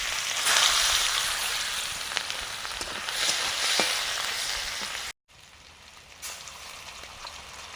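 Whole cumin, dried chillies and chopped onion fry in hot oil with a loud, dense crackling sizzle, then a brief cut and a quieter, steadier hiss.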